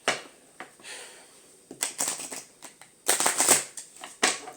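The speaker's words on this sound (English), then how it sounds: "just give it a quick shuffle" Tarot cards being shuffled in quick riffling bursts, soft papery flutters and snaps coming in short clusters with brief pauses between, close by and alone.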